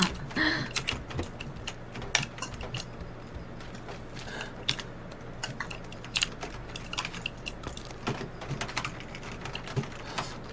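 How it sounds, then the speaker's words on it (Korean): Steady clicking of keys on a computer keyboard during a PlayerUnknown's Battlegrounds game, a dense, irregular patter of taps going on throughout, moderately close against a faint background hum. "내 키보드 소리보다 오빠 키보드 소리가 훨씬 크잖아"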